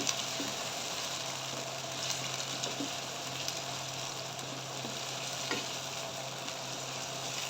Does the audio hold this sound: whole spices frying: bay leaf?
yes